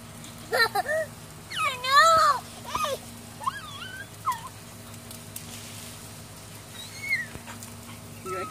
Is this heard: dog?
yes